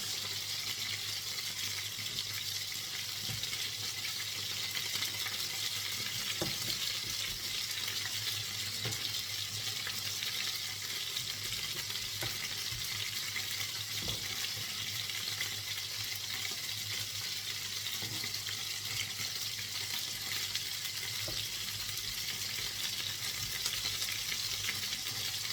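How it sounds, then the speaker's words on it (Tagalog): Garlic sautéing in olive oil, followed by onion, for a Filipino ginisang spinach and mushroom dish: a steady, even frying hiss runs throughout with faint scattered clinks, and no talking. "Alasahin muna natin yung bawang sa olive oil. Sunod na natin ang sibuyas."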